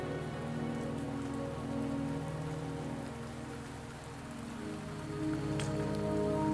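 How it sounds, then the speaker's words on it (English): Steady rain falls in Wuthering Waves, a dense, even patter on surfaces that stays constant throughout, with a soft tonal game background underneath and no voices. "Don't worry, the rain won't last much longer."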